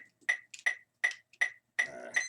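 A practice timer or metronome taps out sharp, bright ticks at a steady pace with a few brief gaps, close and clear, ending in a longer ringing tone.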